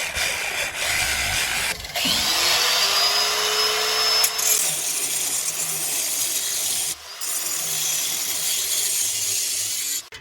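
A power saw cuts through the exhaust resonator pipe of a Toyota Corolla in long, loud, whining passes with two short pauses, a high metallic screech riding over the motor's steady drone.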